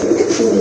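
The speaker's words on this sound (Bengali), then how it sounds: "আরেক জোড়া কবুতর দেখেন" A pigeon kept for sale gives a single short, soft cooing call close by, a brief throaty murmur with no talk around it.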